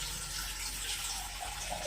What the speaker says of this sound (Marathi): पाणी भरलं भरलं टाकी